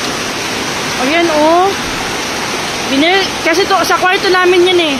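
Rainwater leaks through a bedroom roof covered by a worn tarp, making a steady rushing patter throughout. A voice talks over it in bursts.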